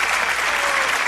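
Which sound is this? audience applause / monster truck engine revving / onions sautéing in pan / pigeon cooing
audience applause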